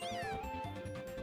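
A cat Pokémon meows in Pokémon Ultra Sun, one clear, fairly loud meow with a wavering, whining tail, heard alone.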